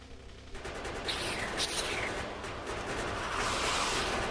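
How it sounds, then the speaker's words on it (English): Turret guns in Factorio fire at swarming enemy bugs, a steady dense rattle of rapid shots with sharp bursts layered over it, fairly loud and continuous throughout. "See if the guns work."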